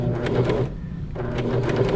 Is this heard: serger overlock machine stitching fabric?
yes